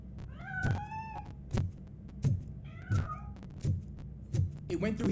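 Repeated short cat meows from RoboCop: Rogue City, about five or six cries spaced roughly a second apart, fairly close, over a low game ambience with thuds and a voice talking in between.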